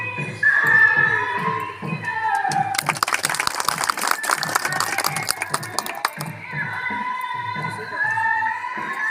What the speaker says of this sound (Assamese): লগে আপোনালোকে সকলোৱে হাত চাপৰি মাৰি